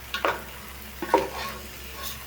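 A spoon stirs rice with ginger, garlic, cumin and nutmeg pastes frying in a pan for pulao, two short scraping strokes over a faint low sizzle, close by.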